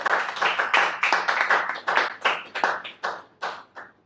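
A church congregation claps hands in worship during an online prayer session, about a dozen loud, close, evenly spaced rhythmic bursts of clapping with no talk over them.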